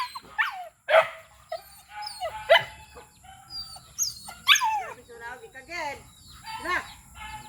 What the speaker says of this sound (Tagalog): Itong mga aso ko guys